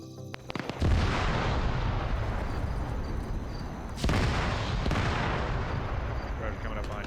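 Demolition charge detonating in a military video game: a sudden heavy blast that rolls into a sustained roar, then a second loud boom a few seconds later, with faint radio-style voices underneath.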